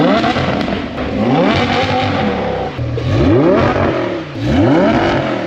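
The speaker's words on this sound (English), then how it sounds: "Today, we're finishing up that Audi R8 V10 Plus Valvetronic exhaust install, because that thing is crazy." A Audi R8 V10 Plus fitted with a Valvetronic exhaust and no rear bumper revs hard, loud and close, with repeated rising blips and snarling sweeps over a steady rumble.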